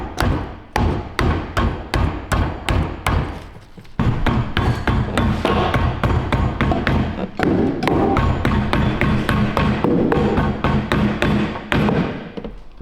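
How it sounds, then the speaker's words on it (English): Air chisel hammering a suspension bush into a beam on a Cupra R, a close series of loud, rapid thudding impacts, first in separate bursts and then as a longer sustained run of pounding. "Air chisel them straight."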